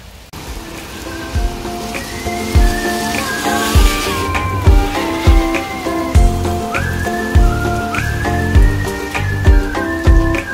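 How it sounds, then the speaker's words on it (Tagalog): Heavy rain pours steadily and loudly in Derry/Londonderry, Northern Ireland, a dense continuous hiss with drops and thuds on nearby surfaces, layered with game-like whistling tones and rhythmic low beats throughout. "Papalipasin lang muna namin ang ulan. Parang hindi siya ulan, para siyang bagyo"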